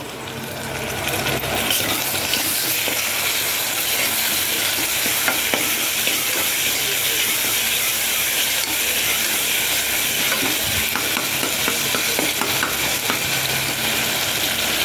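Ginger paste sautés in a pan with a steady, loud sizzle and hiss, with occasional stirring scrapes throughout and no voices.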